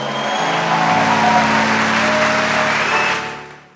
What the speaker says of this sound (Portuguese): Quem quer ser uma pessoa de oração, dá uma salva de palmas ao Senhor bem forte.